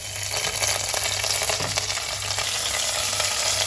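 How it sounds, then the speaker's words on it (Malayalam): Mint leaves hit hot oil in a pan for a Kerala-style mutton stew, producing a loud, steady close-up sizzle and crackle that fills the whole stretch without pause, no voices. "ഇനി ഓയിൽ ചൂടായി കഴിയുമ്പോൾ അതിലേക്ക് നമ്മൾ എടുത്തു വച്ചിരിക്കുന്ന പുതിനയുടെ ഇല ഇട്ട്"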